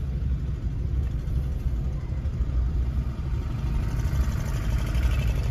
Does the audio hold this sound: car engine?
yes